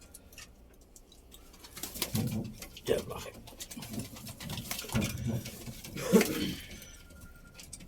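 Domestic pigeons coo softly in low, rolling calls, close by, while someone talks over them amid faint fluttering and shuffling.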